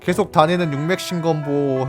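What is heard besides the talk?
No everyday noises stand out.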